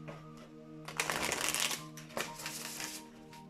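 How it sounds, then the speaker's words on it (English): Cards are shuffled up close in quick riffling bursts, a rapid fluttering flurry that swells, pauses, and repeats more softly. "Come on, shuffle."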